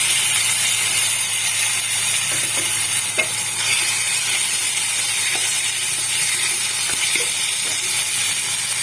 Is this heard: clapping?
no